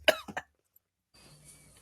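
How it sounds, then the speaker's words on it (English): Three quick, sharp coughs close by, followed by a pause and faint background room noise. "This is the part where I start coughing crazy"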